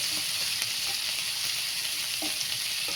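Onion and green chili frying in hot oil, a steady dense sizzle with faint stirring knocks, alone and close.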